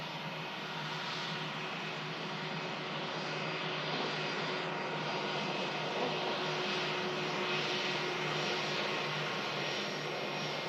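A Cessna 172 light aircraft flies over Manchester Airport at about 2,000 feet. Its steady, droning engine hum holds unbroken and fairly distant for the whole stretch, with no voices.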